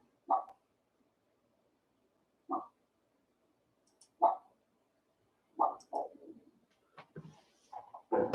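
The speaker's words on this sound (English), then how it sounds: "think Daisy's barking" A dog barks in short separate bursts with long gaps, then several quicker barks near the end, moderately close in an otherwise quiet setting.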